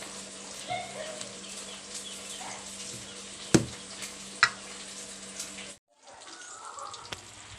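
Fish head curry with potatoes frying in a pan with a little water, a steady low sizzle running throughout, broken by a couple of sharp clinks of a utensil and a brief cut to silence near the end.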